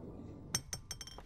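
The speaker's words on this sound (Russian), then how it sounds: "Лампочка упала." Light bulb falling and clinking in the video game Silence, a sudden glassy strike followed by several quick, fading tinkling bounces against a quiet background.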